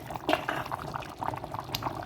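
Jaffna-style chicken curry, made with coconut milk and salt, simmering in a pot as it comes to a boil, with soft bubbling and liquid burbles near at hand, quiet and steady over about two seconds.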